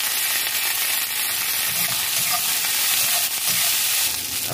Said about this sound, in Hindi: अब ये मटर को भी डाल देती हूँ